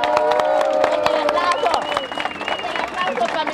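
Audience at a Spanish-language radio or studio broadcast applauding and cheering for a New York guest, a dense, steady wash of clapping with whoops and voices mixed throughout, close and lively.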